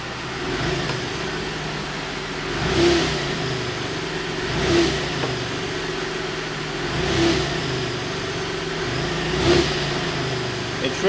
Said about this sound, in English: So I'm going to brake torque the engine again and see what happens.